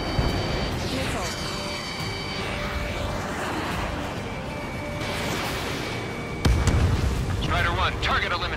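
Missiles striking enemy bombers during an aerial combat video game: a continuous roar of jet engines and rumbling explosions, with a sharp loud blast hitting near the end as radio voices talk over the action.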